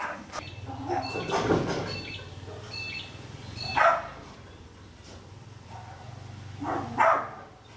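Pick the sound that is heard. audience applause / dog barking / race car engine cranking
dog barking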